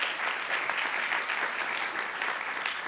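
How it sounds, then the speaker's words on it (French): An audience applauds at the opening of a French awards ceremony, dense sustained clapping from a sizeable room, steady and moderately loud for the whole stretch. "Catherine Abonin, qu'on peut applaudir à chaque fois, femme business angel."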